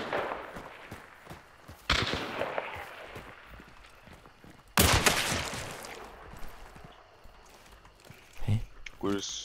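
Bursts of gunfire in the video game Hunt: Showdown crackle in sharp volleys over a continuous noisy backdrop, with a few louder blasts standing out.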